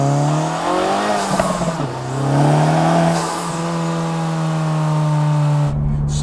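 An Acura Integra Type S exhaust drones loudly from inside the car as the engine note rises and falls through downshifts, with revs dipping and swelling before settling into a steady hum.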